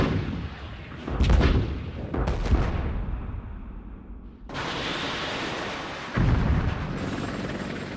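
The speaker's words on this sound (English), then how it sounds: "Arm this missile, I'll shoot it down range." A missile launched down range in a 1991 Gulf War battlefield setting: loud booming blasts around 1 and 2.3 seconds, then a sustained roaring rush from about 4.5 seconds that surges again near 6 seconds, close and forceful.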